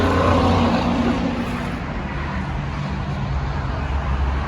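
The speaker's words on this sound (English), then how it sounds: "where you watch and listen to the sounds of the road" Steady traffic roar from Interstates 65 and 70 heard from roadside stadium seating, a continuous low rumble of cars and trucks passing at a distance, with no voices.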